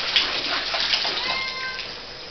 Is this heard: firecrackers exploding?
no